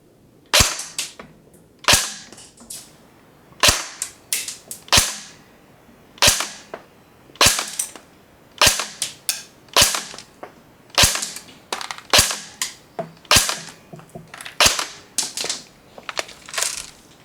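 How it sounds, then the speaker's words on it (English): An Aim Top G36C electric airsoft gun on an 11.1 volt LiPo battery fires .2 gram BBs through a chronograph, giving loud, close, sharp single shots spaced about a second apart, with no talking. "I'm going to put some .2s in the mag, put a battery in it, and see how fast it's shooting."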